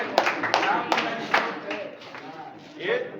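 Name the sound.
audience clapping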